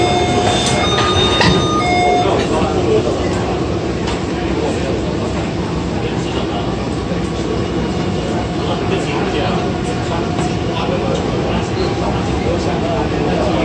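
A Taipei Metro Bannan line train runs at Ximen station amid a loud, steady rumble of wheels and motors, with a few clear chime tones near the start.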